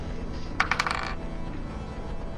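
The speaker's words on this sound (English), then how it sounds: "you can roll to hit." Dice rolled to hit in a Halloween one-shot tabletop role-playing session, a short clattering burst of several quick hard taps on a table, close and fairly clear, with no talk over it.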